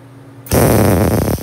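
A welder tack-welds steel plates of a grinding fixture: after a quiet start, a loud, harsh crackling buzz bursts in abruptly and holds for about a second, then breaks into a few sputters.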